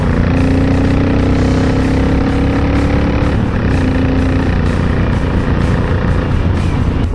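A Honda VTX 1800 motorcycle rides along, its large engine giving a loud, steady, close rumble with wind noise throughout.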